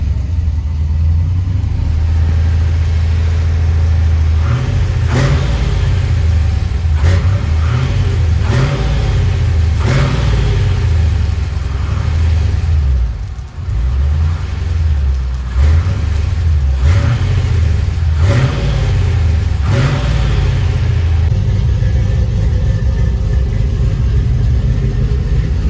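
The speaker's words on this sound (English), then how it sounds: "got the old LS running. Idling really nice." A rebuilt 6.0-litre LS V8 swapped into an older truck idles steadily on a cold day, a loud, close, deep engine rumble with a few brief throttle blips throughout.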